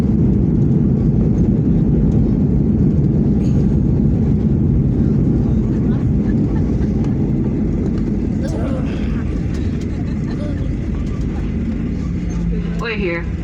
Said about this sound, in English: Touchdown. Oh, that was the hardest landing ever.